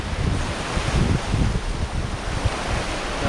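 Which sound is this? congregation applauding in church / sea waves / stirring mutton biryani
sea waves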